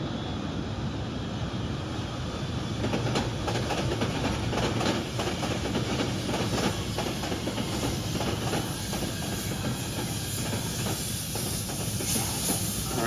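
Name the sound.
train passing on rail line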